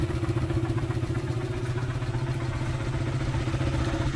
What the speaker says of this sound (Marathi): इकडे आता बाईक आम्ही गरम करतो आहे.